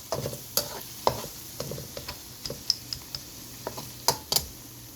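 Chicken leg pieces coated in spices are stirred in a pan with soft sizzling. A dozen or so distinct clicks and scrapes of the spoon against the pan come at an irregular pace, fairly close and quiet.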